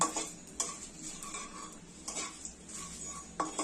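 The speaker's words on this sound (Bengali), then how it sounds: "দিয়ে এটাকে ভালো করে নেড়ে চেড়ে ভেজে নেব।" Whole spices dry-roasting in a dry pan with a little salt, a utensil scraping and stirring in repeated sweeps, with occasional sharper metallic scrapes over a faint background hiss; no voices.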